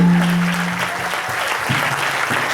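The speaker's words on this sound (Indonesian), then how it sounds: "Ayo lebih keras lagi Bapak Ibu." A seminar audience claps loudly, a thick continuous wash of applause from the start to the end of the short stretch.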